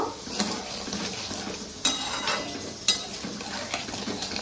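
Sweet and sour olive chutney, sweetened with palm jaggery, is stirred in a pot with a metal spoon, giving a low bubbling sizzle and a few sharp clanks against the rim, with no talking.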